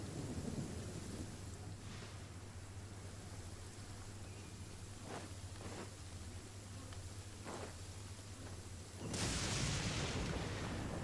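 Steady rain hisses in Genshin Impact while soft thunder rolls several times in the distance, then a louder crash of downpour swells near the end.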